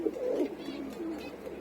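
Pigeons cooing softly in a breeding loft: low, rolling coos overlapping at close range, faint and continuous with no voices.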